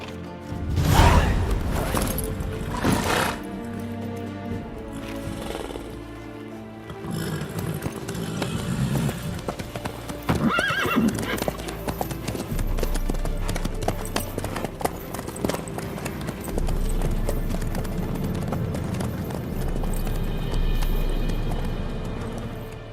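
Horse hooves clip-clop steadily in The Witcher 3 video game, a loud, continuous rhythmic trot over a busy bed of game sound effects and music, with no talk.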